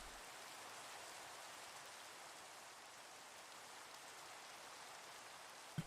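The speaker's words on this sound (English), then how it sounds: "Rain. This is twice in 90 minutes." Steady rain falls, making a soft, even hiss of drops that continues without a break, fairly faint and distant, with a brief knock right at the end and no voices.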